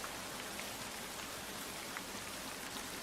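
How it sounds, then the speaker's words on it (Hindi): Rain falls steadily as a faint, even hiss of drops with no other sounds and no break throughout. "धीरे धीरे बारिश शुरू हो गई।"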